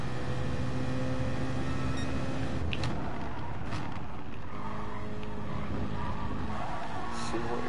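A BMW Z4 engine in a racing video game drones steadily and loudly throughout, with a rising and falling roar as the car is driven hard.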